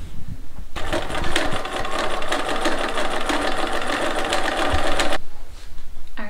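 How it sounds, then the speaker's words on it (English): A sewing machine stitches a half-inch seam on a one-piece boxed cushion cover, running steadily for about four seconds before stopping, close and clear with no talk. "I'm just going to sew that 1/2 inch"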